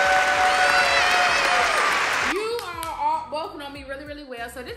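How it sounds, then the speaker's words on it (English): A group applauds loudly for about two seconds, broad clapping and crowd noise, then it breaks off as children's voices and chatter carry on over a scattering of lingering claps. "Everybody give yourself a round of applause."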